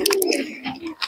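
Pigeons at a pigeon market in Murshidabad coo and call up close, a few short throaty bursts in quick succession with no talk.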